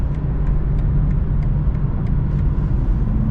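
Steady road and engine rumble from a manual USDM BMW M3 cruising on the German Autobahn in the slow lane at around 85 mph, a constant loud drone with faint periodic ticks and no talking.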